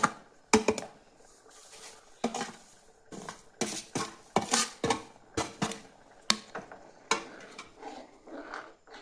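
A utensil scrapes and knocks against a pan while semolina is stirred in, giving irregular sharp clinks and taps with quiet gaps between them and no voices.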